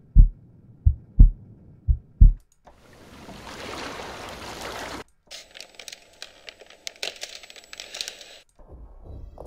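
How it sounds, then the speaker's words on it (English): Artificial heartbeat sound effect from the Alchemy software synthesizer, four deep, evenly spaced thumps, then a breathy whoosh and crackling, shimmering ambient textures, with no talking. "Sound effects, natural, artificial heartbeat."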